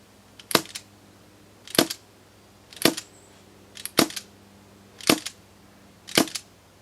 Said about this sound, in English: this is from about 10 feet away with the suppressor